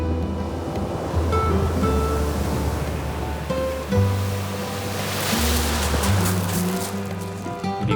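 Big ocean waves roll and crash steadily along the Georgian coast as strong wind blows across the microphone in a loud, continuous wash of surf.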